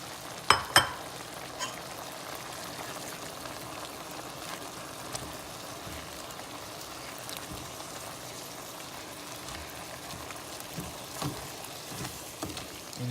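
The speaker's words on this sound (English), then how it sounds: "And this is simmering" Orange chicken sauce simmers in a pan, a steady soft sizzling and bubbling hiss that runs throughout, with a couple of sharper clinks near the start.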